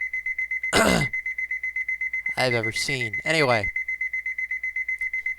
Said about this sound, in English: today our alarm is going off